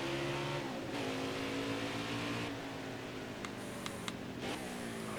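A race car engine in NASCAR Heat 5 drones steadily under gentle throttle at Road America in an Xfinity race, with a sustained tone that shifts in pitch as it eases through a turn and no talk.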